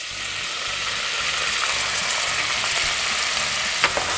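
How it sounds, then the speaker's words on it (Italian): Onion frying in hot oil in a pan while cooking Neapolitan pasta e patate, a steady, dense sizzle that holds evenly throughout with a few faint clicks, close and alone without talk. "Appena si è riscaldato l'olio, mettiamoci la cipolla."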